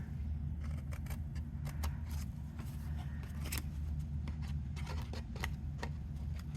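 Scissors snip through a homemade paper folder in a run of quick, crisp cuts over a low, constant rumble of background hum.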